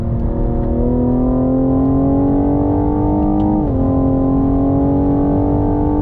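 A 2021 Cadillac CT5-V sport sedan accelerates on throttle in first gear from a slow roll, its engine droning loud and close with a steady rising pitch and a brief dip near the end, no talk.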